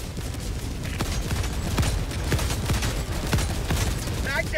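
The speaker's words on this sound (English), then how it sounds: "Orbital barrage incoming." Orbital barrage strike in Helldivers 2: a dense, continuous rumble of explosions and rapid thuds rolls on without pause, loud and close, with a brief voice near the end.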